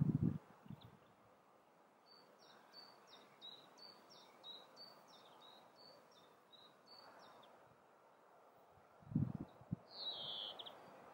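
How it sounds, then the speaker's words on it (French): Birds singing outdoors during a calm yoga session, a run of faint high chirping notes repeated in a steady series, distant and soft, with a few low rustles or thumps nearby. "le chant des oiseaux."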